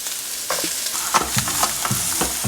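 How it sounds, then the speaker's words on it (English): Onions and carrots frying in hot oil for fried quinoa, a steady sizzle with scattered stirring scrapes and clinks throughout, close and moderately loud with no talking. "once your oil is hot, the first thing you want to do is add your onions and your carrots"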